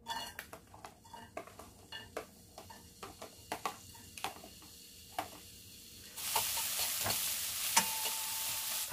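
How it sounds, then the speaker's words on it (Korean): Utensils scrape and clatter in a pot on a gas stove as braised spicy chicken is stirred with irregular knocks, then a loud, steady sizzle of frying takes over near the end. "닭도리탕을 넣고 같이 한번 볶아주세요."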